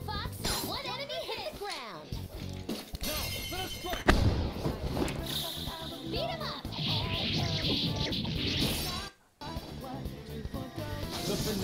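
Gunfire and battle effects ring out during a Persona 5 fight, sharp shots and crashes layered over game music, with a voice talking over much of the action.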